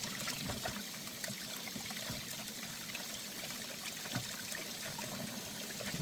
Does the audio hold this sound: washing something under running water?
yes